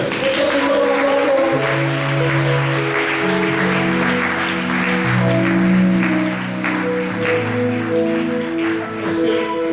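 Church congregation clapping steadily together, loud and sustained, with organ or keyboard chords and some singing voices underneath.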